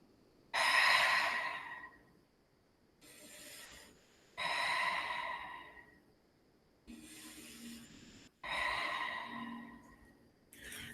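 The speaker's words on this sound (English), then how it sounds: "Breathing." Slow, deep breaths during a yoga forward fold, with three long loud exhales through the nose alternating with quieter inhales at a calm, even rhythm, close and without speech.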